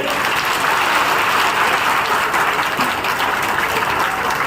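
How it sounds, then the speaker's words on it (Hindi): Loud, dense crowd applause at a Sanvidhan Bachao (Save the Constitution) Congress political rally in Godda, Jharkhand, a steady wash of many hands clapping that fills the whole stretch without pause. "अखिलेशों की आवाज आदरणीय फुरकान साहब से लेकर जोरदार ताली बजनी चाहिए"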